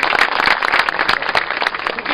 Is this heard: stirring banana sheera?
no